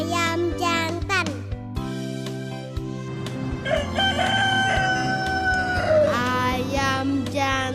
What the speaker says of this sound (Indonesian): Ayam jantan.